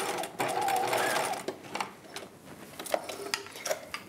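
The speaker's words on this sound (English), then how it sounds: "And so just stitching along each edge of the channeling." A sewing machine with an edge stitch foot runs along the edge of a boning channel in a dress lining, with a steady, close mechanical whir for the first second and a half, then lighter ticks and clicks.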